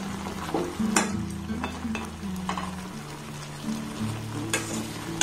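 Gaja sweets simmer in sugar syrup in a pan, giving a soft, steady bubbling sizzle broken by occasional clinks and scrapes of a utensil; fairly quiet, with no talking.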